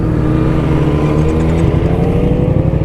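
A Triumph Thruxton motorcycle, just back on the road with a new battery, is ridden with a steady, loud engine drone and some throttle variation, heard close with wind noise. No one speaks.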